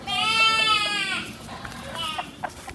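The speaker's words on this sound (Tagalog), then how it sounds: "Tara, check natin yung kambing doon." A goat bleats loudly and close by in one long wavering call, then a few fainter calls and bleats follow amid outdoor background noise on a farm.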